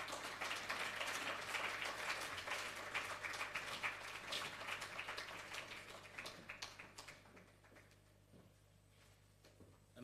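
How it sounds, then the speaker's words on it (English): An audience at a graduation ceremony applauds. Dense, steady clapping fills the hall for several seconds, then thins out and fades to scattered claps and room quiet near the end. "Another round of applause, ladies and gentlemen"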